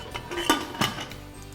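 Metal kitchen cookware clanks as a pressure cooker lid and pot are closed, with two sharp clinks close by followed by a faint scrape, no speech.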